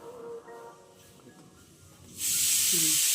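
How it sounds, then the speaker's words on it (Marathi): A pressure cooker lets off steam in a home kitchen, a sudden loud, sustained hiss bursting in after quieter background sounds and a brief voice, continuing strongly to the end. "कुकरची शिट्टी पण झाली"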